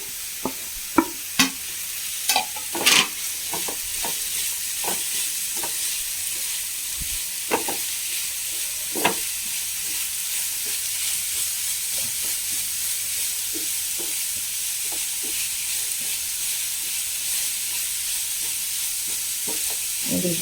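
Chopped vegetables for a chicken momo filling sizzle steadily in a hot pan, with frequent sharp scraping and clinking of a spatula stirring them, close and continuous without talk.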